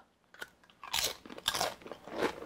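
Sweet butterscotch potato chips made with protein powder being bitten and chewed up close, giving several sharp, crisp crunches in quick succession with no talking.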